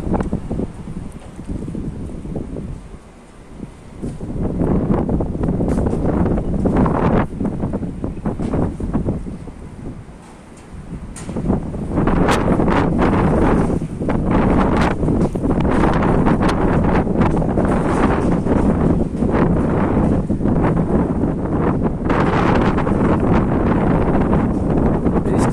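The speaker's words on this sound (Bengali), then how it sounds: "জ্বর হচ্ছে এখানে, বাতাস, প্রচুর বাতাস।" Strong storm wind blasting across a rooftop in Mecca, loud roaring gusts buffeting the microphone almost continuously, with two brief lulls early on, no talk.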